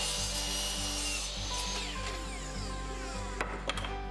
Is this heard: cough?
no